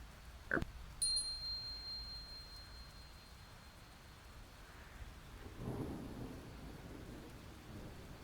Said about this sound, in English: I will leave sound of rain.